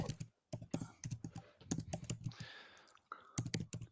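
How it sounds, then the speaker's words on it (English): Steady computer keyboard typing with crisp clustered clicks close to the mic, a short lull partway through, then the tapping resumes, no voices present. "typing away. You can hear him."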